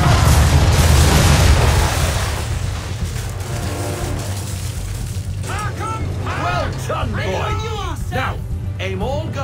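A frigate's broadside cannon fire in Assassin's Creed III opens with heavy, loud booms that fade into a rumbling wash, followed by a voice speaking over the lingering noise.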